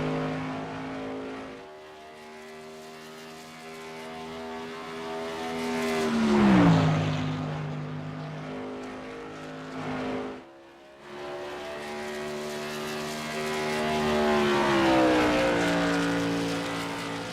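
Tour Modified race car number 42 running a qualifying lap at Iowa, its engine a steady harmonic drone that dips sharply in pitch twice, with a brief lull midway before the revs climb again.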